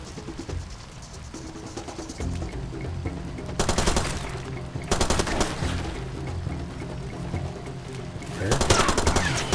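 Pistol fire in the game Far Cry 2 comes as rapid close bursts of sharp shots over continuous game ambience, with several separate volleys spread across the stretch.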